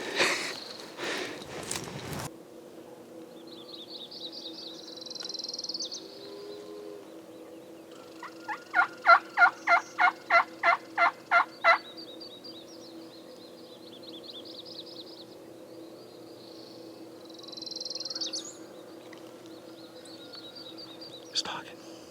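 A wild turkey gobbles out in the open: a rapid, rattling burst of about a dozen loud pulses partway through, with softer calls before and after and a person talking quietly at the start.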